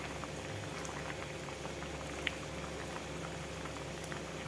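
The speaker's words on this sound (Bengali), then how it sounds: "দেখুন ঝোলটা ফুটে উঠেছে, কত সুন্দর হয়েছে।" Tangra fish curry bubbling at a boil in a pot, a steady, close simmering hiss with dense popping bubbles and no voices.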